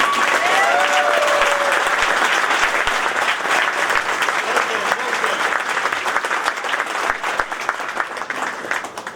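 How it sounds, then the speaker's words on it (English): A crowd at a ribbon-cutting ceremony for a reopened subway station applauds steadily, dense clapping throughout that gradually thins toward the end. "how about a warm round of applause today"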